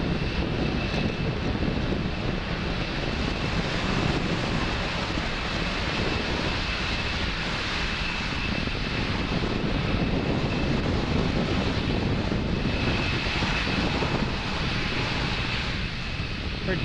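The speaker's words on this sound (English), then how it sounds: "Falcon 9 clearing the tower at Space Launch Complex 40 and making its way to orbit." A SpaceX Falcon 9 rocket climbs after launch from Space Launch Complex 40, its Merlin 1D engines giving a continuous loud, broadband roar with crackling texture that stays strong and steady throughout.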